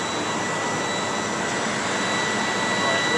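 Truck engine held at just over 1,000 RPM to build air brake pressure, giving a loud, steady, unbroken roar with a faint high whine running throughout.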